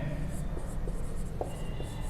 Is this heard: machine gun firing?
no